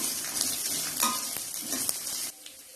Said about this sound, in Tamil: இந்த அளவுக்கு இஞ்சி எடுத்திருக்கோம், அதையும் சின்ன சின்னதா கட் பண்ணி எடுத்திருக்கோம், அதையும் போட்டு நல்லா வதக்கி விட்டுறலாம்